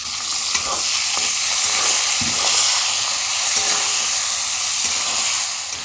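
Chopped onion and tomato with salt fry in a hot pan, a loud, continuous sizzle and hiss with occasional scrapes of a stirring spoon, no voices.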